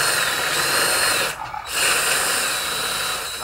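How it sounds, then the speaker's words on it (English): A power drill grinds loudly and continuously through the metal cradle of a boat trailer's bunk, with one brief dip in the motor's whine midway. "Let the drill do the work, man."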